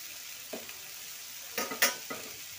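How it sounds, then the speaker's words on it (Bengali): Orange pickle being stirred after jaggery and tamarind go in, a few soft scraping strokes scattered over a low steady hiss, the sharpest two close together near the end. "গুড় আর তেঁতুল মিশিয়ে দেব।"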